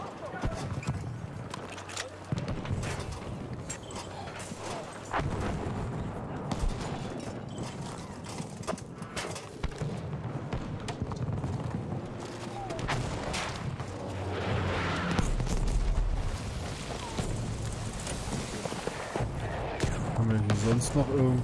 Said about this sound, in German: hier ballert schon wieder einer alles